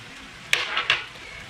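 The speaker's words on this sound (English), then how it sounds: "Now we will mix this well and cook the sabudana till it becomes transparent in color." A spoon stirs sabudana khichdi in a pan, giving two sharp metallic clinks against the pan over a faint cooking hiss.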